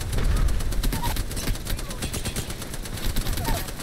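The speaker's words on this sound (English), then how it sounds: "They're shooting at me." Gunfire in the Apex Legends video game roars as dense, continuous rapid shooting, loud and close, with bursts overlapping in a sustained fusillade throughout.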